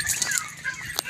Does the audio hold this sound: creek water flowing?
no